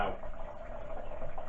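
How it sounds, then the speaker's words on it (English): Boiling water is poured over pear and apricot fruit for homemade sherry, making a steady close splashing, gurgling pour that runs without a break. "make sure you get a good cover of boiling water. I'm just going to get some more on now."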